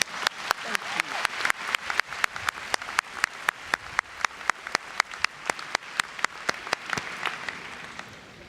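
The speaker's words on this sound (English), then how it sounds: "let's give him a round of applause" An audience at a 2018 college graduation ceremony claps in a hall, with sharp, regular claps standing out over a softer crowd wash that runs steadily for several seconds before fading slightly at the end.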